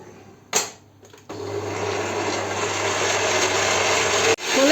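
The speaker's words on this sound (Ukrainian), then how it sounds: "три білки, щіпку солі і будемо збивати" Electric hand mixer whisking three egg whites with a pinch of salt in a bowl, a steady close whirring drone that starts after a brief switch-on burst and runs continuously for several seconds before cutting off, with no talk.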